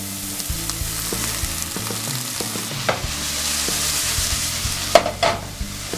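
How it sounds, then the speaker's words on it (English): Onions sizzle steadily while frying in a pan with a little lemon juice, a continuous bright hiss with scattered pops and a few louder spatters near the end, no voices. "love that sizzle"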